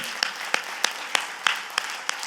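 In a Korean church service, clapping rings out in a steady rhythm of about eight crisp, evenly spaced claps, fairly close and clear over a quiet room.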